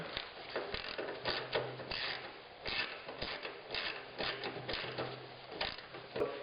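Small 8mm nuts are unscrewed from the fuel pump plate of a BMW 1150GS motorcycle, giving a series of close, light ratcheting clicks and metallic taps at an uneven rhythm, with no talking.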